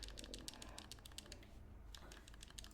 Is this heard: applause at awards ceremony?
no